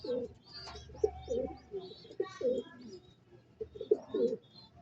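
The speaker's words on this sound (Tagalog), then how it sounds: "Ayun na, pumasok na mga kaibon." Racing pigeons coo nearby as they enter the loft, giving soft, rounded, repeated calls in short bursts with faint chirps and a quiet background hum.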